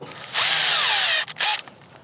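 A power drill whirs on a rooftop chimney cap as screws are backed out, one sustained high whine of about a second followed by a shorter burst, fairly loud and close with no talk.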